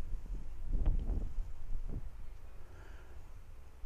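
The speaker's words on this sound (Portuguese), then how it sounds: "Está ventando um pouquinho" Gusts of wind buffet the microphone in low rumbling bursts, strongest early on, then easing to a softer steady rush.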